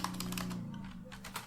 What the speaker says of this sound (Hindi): देन मैं यहाँ पे टाइपिंग करता हूँ git